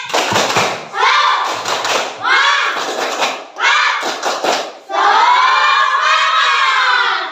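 Schoolchildren in an Indonesian classroom chant a tepuk semangat cheer in unison, their shouted bursts punctuated by rhythmic group clapping, ending on one long sustained shout.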